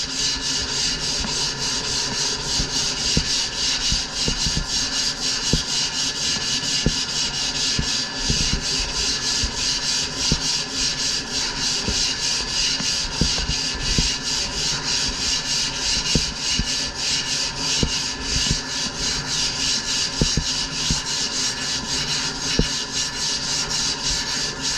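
Steady, continuous rasping of sandpaper rubbing over a wooden shape to remove scratches, close and unbroken throughout with faint irregular ticks.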